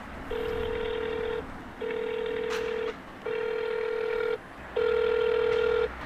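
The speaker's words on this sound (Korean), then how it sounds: "일단 손님한테 전화 한번 먼저 해볼게요" Four long, steady ringback tones on an outgoing phone call to a customer, evenly spaced with short silences between, over a faint background hum.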